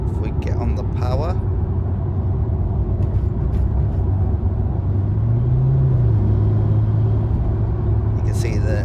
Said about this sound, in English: you can see the revs rise, but the car doesn't increase in speed, and then it locks up and goes again